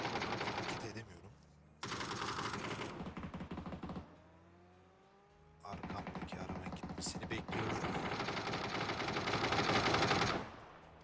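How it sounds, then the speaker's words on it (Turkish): Rapid bursts of PUBG Battlegrounds gunfire rattle in long automatic volleys, broken by a brief quieter stretch with a rising mechanical whine. "Ve ateş sesleri duyuyorum."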